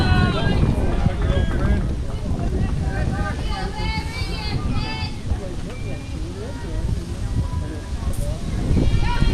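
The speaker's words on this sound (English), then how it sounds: "It is getting quite windy here." Gusty wind buffets the microphone throughout at a baseball game as someone commentates steadily over the rumbling noise.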